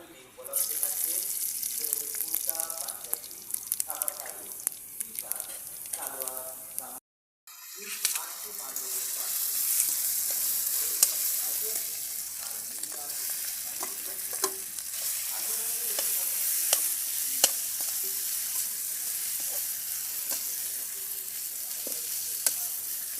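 Dried red chillies cut into pieces and fennel seeds sizzle and fry in hot oil in a pan, a steady bright crackle with stirring scrapes, briefly interrupted, then continuing strongly with no talk over it.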